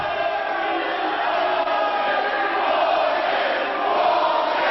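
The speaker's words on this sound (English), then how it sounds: "The crowd not happy, LC. Obviously, yes, indeed. They're chanting." Wrestling arena crowd at an NWA World Title match chanting in unison, a dense, loud, sustained roar of many voices with no letup across the whole stretch.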